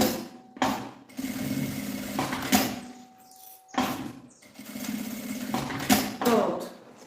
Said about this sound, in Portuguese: costura.